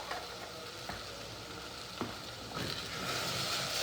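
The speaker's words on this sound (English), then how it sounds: "And then we're going to stir that in." Mac and cheese sizzling in a pan as garlic is stirred in, a steady crackling fry with a few sharp spoon scrapes, close and alone.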